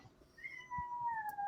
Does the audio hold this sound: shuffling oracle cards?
no